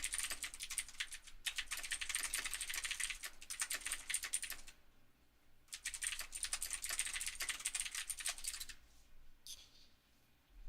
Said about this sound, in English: You can hear a lot of typing.